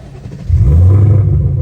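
A Ford Mustang Dark Horse with a stick shift, tuned to about 1200 horsepower, fires up with a sudden deep engine roar that holds as a loud, steady low rumble from close by.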